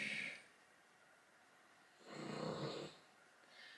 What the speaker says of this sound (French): vous allez bien entendre ronfler dans cette vidéo